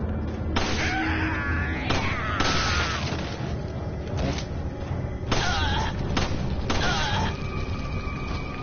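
Repeated pistol shots in the video game Resident Evil 4 on professional difficulty, several sharp reports at irregular intervals over constant game noise and muffled effects.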